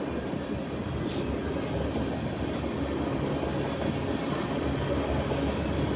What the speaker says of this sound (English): But this is an empty ethanol train,